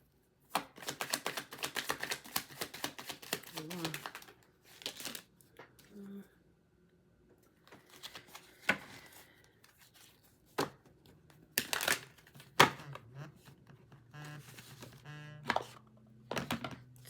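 Tarot cards are shuffled repeatedly up close in quick riffling bursts separated by short pauses, quiet and crisp.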